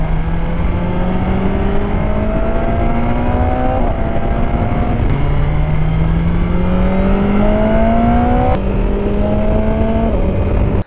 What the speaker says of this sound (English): this bike absolutely sings up the top end. It's got such a lovely induction sound.